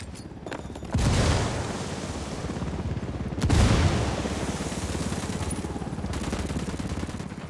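A frag grenade blast and gunfire in Tom Clancy's Ghost Recon: Wildlands: rapid bursts of shots rattle on throughout, punctuated by two heavy booming explosions, one early and one midway.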